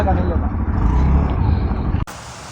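A car engine drones low and steady while driving, loud and close, then cuts abruptly to a quieter rumble.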